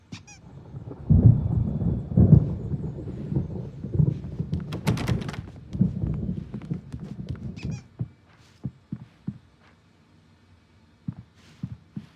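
Low rumbling and crackling thunder rolls through a storm scene in the video game Alan Wake Remastered, loud and dense for several seconds before thinning into scattered faint thumps and knocks.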